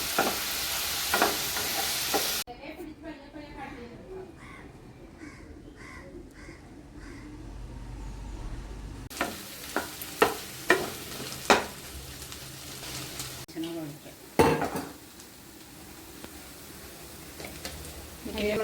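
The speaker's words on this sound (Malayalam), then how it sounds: "ഒന്ന് തുറന്ന് ഇളക്കി കൊടുക്കണം എന്നാലേ എല്ലാം ഒരുപോലെ വെന്ത് കിട്ടണം" Beef peralan, a Kerala-style dish, being stirred as it fries in a pan, with scraping stirs and a steady sizzle coming in bursts, plus a few sharp clacks from a utensil against the pan.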